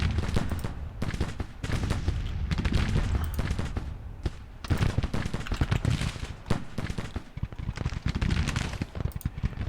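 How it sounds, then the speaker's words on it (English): Civil War artillery and musketry in the strategy game Grand Tactician: The Civil War, a dense, continuous rumble of overlapping booms and crackling volleys, steady and fairly loud with no talk over it. "And now his artillery's opening up."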